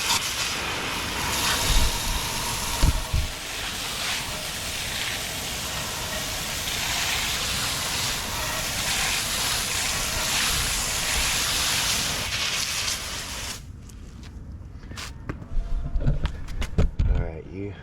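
Water spray rinses brake dust cleaner off a car wheel as a steady, loud broadband hiss for about thirteen seconds, then cuts off, leaving quieter dripping and handling noises.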